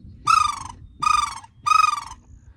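A wood duck call blown by rolling the tongue, giving three loud, close, rising squealing notes evenly spaced with short gaps between them.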